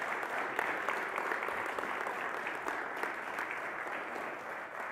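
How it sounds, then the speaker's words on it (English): Audience applause at a historical lecture event on the Civil War, a steady, fairly distant wash of many hands clapping in a hall, even and sustained without voices standing out. "So let's give him a round of applause and gratitude."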